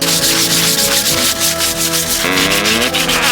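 Steady, continuous scraping of sandpaper rubbing hard over rusty metal outdoor chairs, loud and close, with a rough rhythmic back-and-forth texture and no talking.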